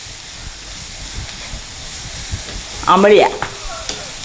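Onions sauté in a pan for beef fry, giving a soft, even sizzle and hiss under a brief spoken word.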